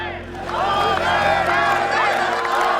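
Angry crowd yelling at an effigy of a Mohawk warrior during a protest over the blocked Mercier Bridge in Châteauguay, a loud sustained mass of overlapping shouting voices.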